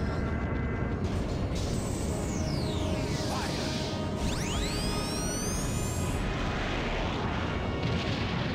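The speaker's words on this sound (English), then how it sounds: "that big Hydra Cannon that he's probably going to fire on that red turn" The Hydra Cannon firing in the Skies of Arcadia Legends video game: a loud, dense booming rumble overlaid with high whooshing whines that sweep down and then up, sustained across the whole stretch.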